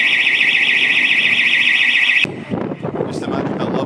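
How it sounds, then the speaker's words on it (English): A steady, shrill alarm rings loudly for about two seconds, then cuts off abruptly, leaving voices talking in the background. "Just imagine how lovely it would be without that distant alarm in the background"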